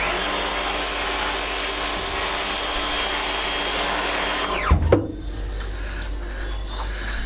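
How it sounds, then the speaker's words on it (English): A pressure washer sprays hard to clean a squeegee, a loud steady hissing roar that cuts off abruptly near the end, leaving a lower motor hum running alone. "this pressure washer does have a lot of power and it could have a lot of force"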